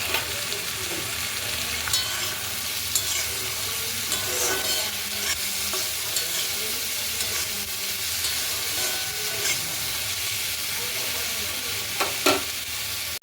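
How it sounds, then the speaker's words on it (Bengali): Turmeric and a mixed spice blend sizzle steadily in a hot pan for a vegetable chop filling, with a continuous frying hiss and occasional scraping stirs and utensil taps, close and alone. "এবার এটা আমি ভালো করে কষাবো।"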